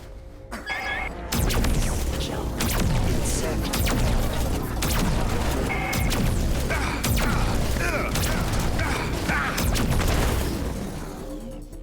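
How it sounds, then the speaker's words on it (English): The Mag pulse ability fires in the video game Marvel Rivals, with dense, loud, booming energy blasts and crashes rolling nonstop amid mechanical clatter and gunfire, close and overwhelming throughout. "Mag pulse again, here we go."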